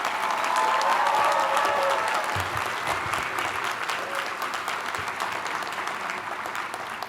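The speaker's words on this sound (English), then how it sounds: "let's give a round of applause for all the recipients" Audience at a Columbia University Law School graduation ceremony applauds prize recipients, a sustained round of clapping that starts strong and gradually thins, with faint murmurs underneath.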